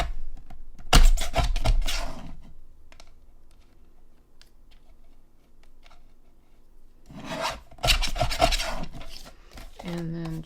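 A paper craft stencil from the Spellbinders Fair Winds Collection is trimmed, with two bursts of close rasping, scratchy cutting strokes separated by a quiet stretch. A low hum runs through the pause.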